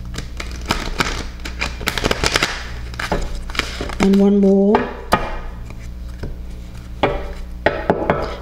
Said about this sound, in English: I will do another shuffle here for you,